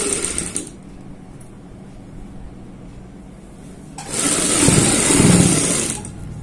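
An electric sewing machine stitching piping onto fabric along a marked margin for a neck design, a steady close mechanical whir that runs briefly, pauses, then returns louder for a couple of seconds, with no talk.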